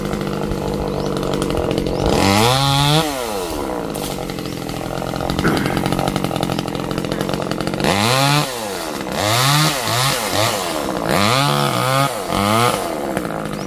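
A chainsaw cuts and trims a tamarind tree, loud and close, with the engine repeatedly revving up into rising whines and dropping back to a rough idle between cuts.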